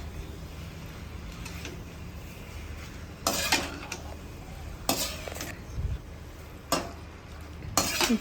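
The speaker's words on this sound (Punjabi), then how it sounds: "ਉਬਲਿਆ ਹੋਇਆ ਪਾਸਤਾ ਤੇ ਪਾਸਤੇ ਨੂੰ ਚੰਗੀ ਤਰ੍ਹਾਂ ਮਸਾਲੇ ਵਿੱਚ ਮਿਲਾ ਲੈਣਾ" Boiled pasta being mixed into red sauce masala in a pan: a faint sizzle under repeated loud scrapes and clinks of a metal spoon against the pan, coming in separate strokes spread across several seconds.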